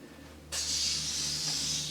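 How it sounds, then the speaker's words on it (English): An aerosol spray can bursts into a steady hiss after a brief quiet moment, then keeps spraying evenly at close range with a tiny dip midway, without talking. "start your spray"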